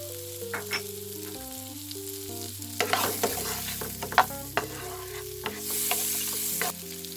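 Green chillies and onions sizzle and crackle in heated butter while being stirred, with steady frying hiss and scattered scraping clicks from a spoon in the pan, close and moderately loud.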